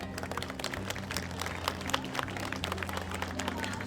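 Scattered clapping from a small crowd forms a steady patter of handclaps, moderately loud and continuous, with a low hum running underneath and no speech.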